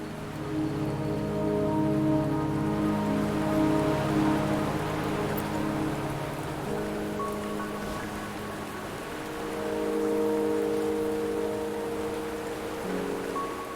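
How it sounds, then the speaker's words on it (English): Steady rain falls in the video game Wuthering Waves, a continuous patter on surfaces under sustained tonal background music, evenly loud throughout. "The rain won't last much longer."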